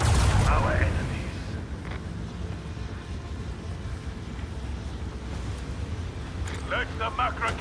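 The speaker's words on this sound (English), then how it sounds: "Let the macro cannon sing their deadly litany." Heavy macro cannon fire from a warship in the Warhammer 40k Rogue Trader video game, a deep booming blast at the start rolling into a long low rumble, with faint crackling bursts toward the end.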